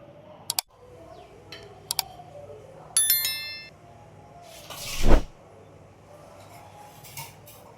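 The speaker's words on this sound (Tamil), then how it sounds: "கடுகு பொரிஞ்சிருச்சு." Mustard seeds popping in about 100 ml of hot peanut oil while tempering for an okra stir-fry: a few sharp, scattered pops with one louder sizzling burst near the end, close by and with no talking.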